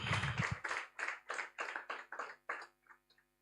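Conference audience clapping in a burst of rhythmic, near-unison claps, about a dozen distinct pulses that thin out and fade at the end, loud and close with no talk over them.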